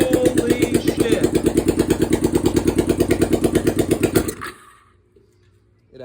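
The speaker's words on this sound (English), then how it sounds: "It actually cranked." A motorcycle engine cranks with a fast, even rhythmic chugging for about four seconds, loud and close, then cuts off abruptly into near silence.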